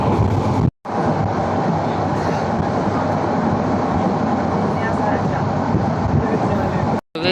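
A moving passenger train bound for Cox's Bazar rumbles steadily with a broad, dense roar and faint clatter from the wheels, heard from inside a carriage, with two brief cutouts in the sound.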